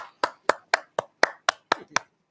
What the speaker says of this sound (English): It feels odd that I'm the only one clapping here